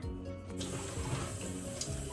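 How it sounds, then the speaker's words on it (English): Water pours from a can onto a potted plant in a garden, a soft continuous trickle and splash heard up close and fairly quiet, with no talking. "I'm gonna give it a little bit of water."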